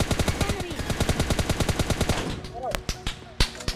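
Rapid automatic gunfire from the video game PUBG Lite, a fast steady burst of loud shots that breaks into scattered single shots and short volleys, with faint voices underneath.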